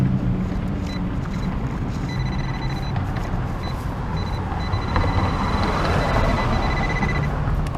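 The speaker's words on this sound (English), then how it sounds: "I'm here like beside the freeway up here. It's louder than hell." Loud, constant roar of freeway traffic rushing past close by, a dense rumbling wash of passing vehicles beside a metal detecting spot, with no pauses.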